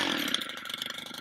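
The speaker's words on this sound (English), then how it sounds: "We'll get it started up and edge some beds." A new Stihl FB 131 gas edger engine catches and runs, a steady close buzzing drone with a rough, rattling two-stroke texture, loud throughout with no talking.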